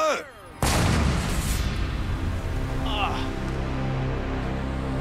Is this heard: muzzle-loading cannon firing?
yes